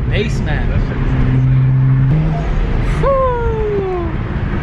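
Turbocharged N54 engine in a BMW 335is on a base map drones loudly and steadily, then revs with a rising whistle-like pitch sweep, heard close up under speech.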